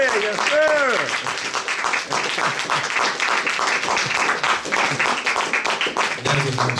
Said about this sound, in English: Give the brother another round of applause.